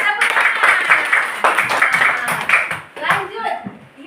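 Schoolchildren in a classroom clap together on cue in a loud, ragged burst, with a teacher's voice and children's voices mixed in and around the clapping.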